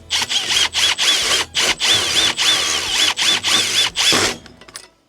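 A power drill drives a bolt with a fender washer while mounting a zero-turn mower canopy, running in about a dozen short, loud, close bursts with brief pauses, then winding down.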